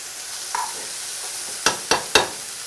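Onions simmer quietly in a pan with a soft, steady sizzle, broken near the end by three quick scraping stirs.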